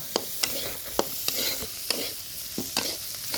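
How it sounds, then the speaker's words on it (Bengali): Fish and cauliflower stalks fry in a pan over an earthen clay stove, stirred with a utensil that scrapes the pan about once every half second over a steady close sizzle. "এখন মাছটা দিয়ে দিলাম। সবগুলো আবার ভালোভাবে ভেজে নেব।"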